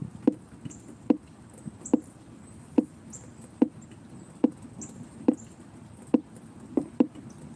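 Sharp, fairly loud rain taps land on a phone every second or so, uneven in rhythm, pattering over a faint steady hiss.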